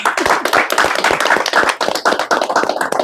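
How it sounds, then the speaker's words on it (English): An audience claps for the artist Viola Kampala at a Kyambogo University gathering, a loud, close burst of many hands with sharp individual slaps forming an uneven, rapid rhythm that continues throughout. "Can we have a loud clap for Viola Kampala?"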